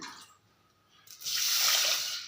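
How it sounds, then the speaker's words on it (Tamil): Water pours steadily into a pressure cooker holding roasted moong dal, a soft rushing splash that starts after a brief quiet pause and continues close by with no talk. "இப்போ இந்த கப்பால் நாலு கப்பு நான் தண்ணி ஊற்றிக்கிறேன்"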